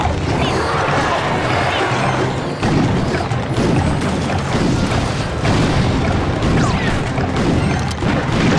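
Explosive booms and crashing impacts from mortar fire in Clash Royale, repeating through dense battle noise, with people talking over the action.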